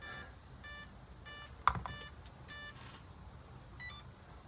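A Spektrum Firma 160 ESC emits a series of short, evenly spaced electronic beeps, about seven clear tones, confirming throttle endpoint calibration, quiet and alone with one brief click in the middle.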